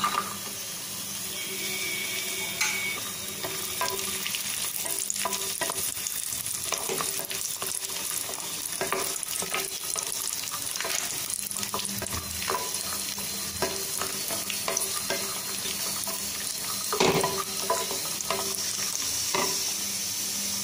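Cashews and raisins frying in a pan for sweet pongal, a continuous close sizzle with repeated scraping and stirring clicks throughout, no voices.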